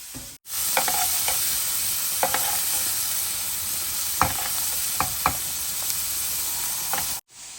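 Steak sears in butter in a hot pan, a loud continuous sizzle with scattered sharp pops and spatters, broken by two brief cuts of silence.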